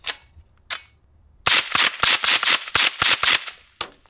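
A suppressed AR-15 firing .22 rounds gives two isolated shots, then a rapid string of about ten sharp cracks in quick succession and a final shot, loud and close with no talking.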